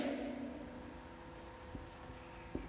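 Pen or chalk strokes writing out a Class 10 maths solution, soft scratchy marks with a few small taps, faint and close against a low background hum, no talking.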